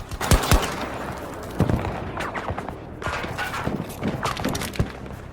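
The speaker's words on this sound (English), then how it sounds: "whenever you're firing the weapon, not only can you see the bullet casings hit the ground" Weapon fire in the shooter Battlefield 2042: sharp individual shots and short bursts at irregular intervals, with metallic clinks and thuds of casings hitting the ground between them, moderately loud over a low ambient bed.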